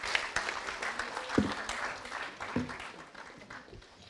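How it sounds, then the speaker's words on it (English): An audience at a CILT India Expo 2019 panel session claps in a moderate, uneven round of applause, with a few louder individual claps standing out, fairly near and without speech. "a huge round of applause, ladies and gentlemen"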